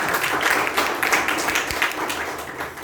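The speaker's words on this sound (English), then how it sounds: "Give them a big round of applause." An audience at a youth leadership program meeting gives a brief, dense round of applause, a steady wash of many hands clapping close by.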